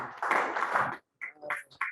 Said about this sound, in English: Can you clap for Tony?